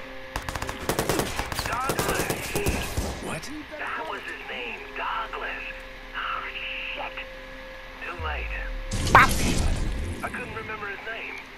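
Gunfire in the video game Watch Dogs, with dense rapid bursts of automatic fire early on, then scattered shots and another loud burst later, mixed with game voices talking throughout.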